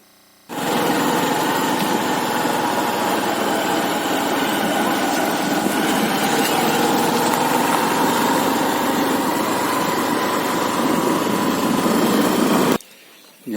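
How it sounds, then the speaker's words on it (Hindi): A motorbike engine drones loudly and steadily while it rides toward a trek start point near Haji Malang Gad, Kalyan. The sound starts after a short pause and cuts off sharply near the end. "मैं यहाँ से बाइक लेके जा रहा हूँ आगे तक"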